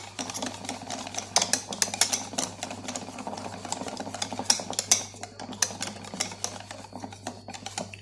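Cake batter with a spoonful of vinegar is mixed in a bowl for a homemade snack cake: quick, uneven clinks and scrapes against the bowl at close range, with no talking.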